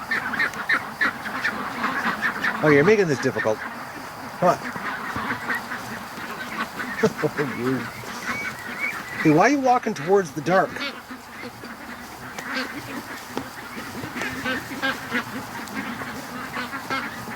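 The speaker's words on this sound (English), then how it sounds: "Oh, there's two other ducks over here too. Muscovies also." Muscovy ducks at a creek give repeated short quacks and honking calls in bursts, fairly close, while a person talks and coaxes them toward a pen.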